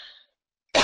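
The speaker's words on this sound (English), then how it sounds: "I have a bit of a cough today, so I apologize that I will be coughing here and there" A single short cough bursts out close and loud at the end, after a brief breathy sound and a moment of silence.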